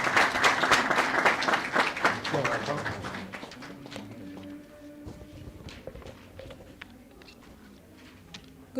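Audience clapping at an official launch and office opening, dense and steady at first, then thinning out to scattered claps and quieter room noise as the speaker arrives.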